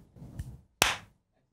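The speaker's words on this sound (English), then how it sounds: "Give me a clap, Greg." One crisp hand clap rings out close and fairly loud, coming after a soft murmur of movement and quickly fading into quiet.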